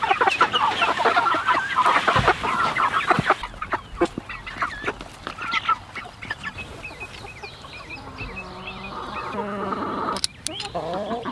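Egg-laying hens cluck and chatter in a farm pen, a busy scatter of close clucks and squawks with bumps and rustling, loudest at the start and easing toward the end.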